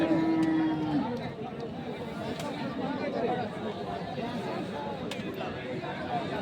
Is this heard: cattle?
yes